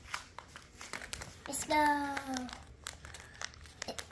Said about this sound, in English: Let's open this up with my scissors.